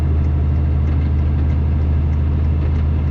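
A hotshot truck with a failing transmission, around 549,000 miles, rolls very slowly, giving a steady low heavy engine drone with a faint repetitive knocking running through it.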